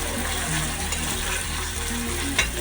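Onions fry in a hot pan for chicken masala gravy, a loud, close, even sizzle running the whole way with a brief sharper crackle near the end.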